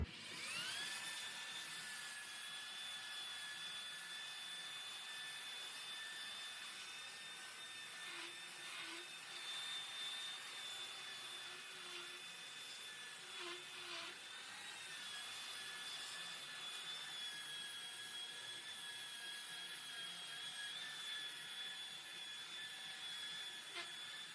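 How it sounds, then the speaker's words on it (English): A belt sander whines steadily on fiberglass, a constant high-pitched motor hum with faint grinding that dips briefly and resumes, no talking. "I'm going to just show you here how I'm sanding that with the belt sander."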